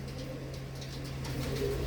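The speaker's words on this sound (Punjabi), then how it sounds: "ਚੀਨਾ ਮਾਨਸਾ ਬਾਈ ਦੇ ਕਬੂਤਰ" Pigeons coo softly in a loft, a low steady hum of cooing with faint higher chirps, close and alone without talk.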